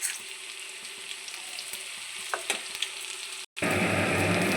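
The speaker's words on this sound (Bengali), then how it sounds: "পাকোড়াগুলো বেশ লাল লাল করে ভাজা হয়ে গেছে" Pakoras deep frying in hot oil in a large wok, a steady close sizzle with occasional pops and a brief stir that stops for a moment before frying resumes more loudly.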